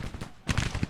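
Rapid crackling volleys of musket gunfire aimed at the Louisiana Tigers in the Civil War strategy game Grand Tactician, with a quieter stretch giving way to a dense, loud cluster of shots.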